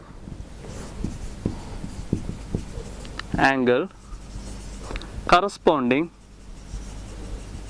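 Marker or chalk scratching on a board in quick strokes through the first few seconds, later giving way to a person talking.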